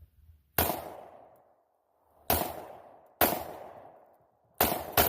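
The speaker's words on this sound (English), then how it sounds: "I am going to shoot this Canik today. At that bowling ball." Four sharp, loud Canik 9mm pistol shots ring out at an outdoor range, fired at a bowling ball, each crack decaying over about a second with irregular gaps between them.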